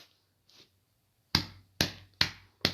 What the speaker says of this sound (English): I'm clapping my left bicep.